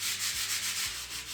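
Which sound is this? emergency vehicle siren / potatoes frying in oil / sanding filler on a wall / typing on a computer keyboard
sanding filler on a wall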